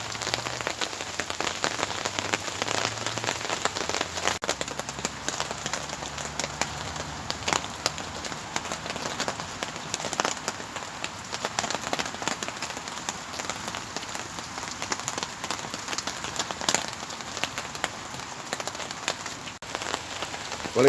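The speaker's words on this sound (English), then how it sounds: "Well, it's doing nothing but rain." Steady rain falling on a weekend campsite, a dense, even patter on surfaces that continues throughout without any talking.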